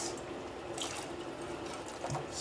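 Hot kettle water poured into beer bottles to sterilize them on a home brewing bottling day, a faint steady splashing and trickling pour with a few small gurgles.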